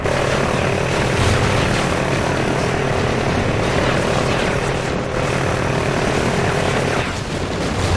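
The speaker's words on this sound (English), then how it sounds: "Hey, that chopper's going at it." Helicopter in the Call of Duty Ghosts video game, a loud, dense rotor and engine roar holding steady throughout with possible faint gunfire underneath.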